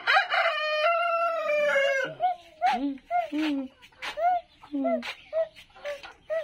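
Brahma and Japanese blacktail laying hens on a farm cluck and call close by, a long drawn-out squawk followed by a run of short rhythmic clucks, loud and clear with no talking.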